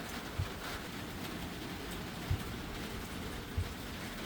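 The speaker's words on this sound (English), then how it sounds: "Can you hear the rain?" Rain falling outside a farm where chicken feed is being fermented gives a soft, steady wash of patter, with three low thumps spaced out across it.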